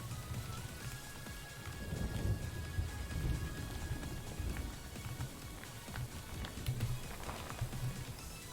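Thunderstorm sound effects: a continuous hiss of rain with low rolling rumbles of thunder, soft and steady throughout, over a faint background tone.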